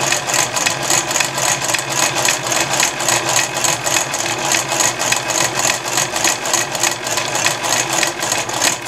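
A sewing machine slowly stitches pieces of baby cloth together, giving off a steady rapid mechanical chatter with even rhythmic pulses throughout, close and continuous with no talk.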